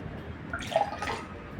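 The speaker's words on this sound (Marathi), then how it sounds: "आता आपण ग्लासमध्ये ओतून घेऊ" Raw mango panha is poured into a glass in a brief, close liquid trickle and splash.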